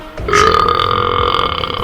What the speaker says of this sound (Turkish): Bakın bakın nasıl geğiriyor.